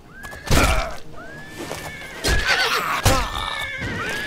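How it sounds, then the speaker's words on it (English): A horse in the Oblivion video game neighs and whinnies loudly in several long, wavering calls, mixed with heavy thuds and clip-clop hoofbeats nearby, with no talking. "Calm down, horsey. Calm down."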